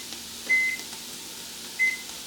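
Two short electronic oven timer beeps, one early and one late, each a clean steady tone standing out alone over a quiet kitchen hum during bread baking.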